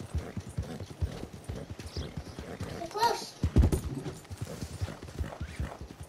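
Horse hooves clip-clop in a steady rhythm in the Red Dead Redemption 2 video game, with a brief whinny midway, while people talk over the hoofbeats.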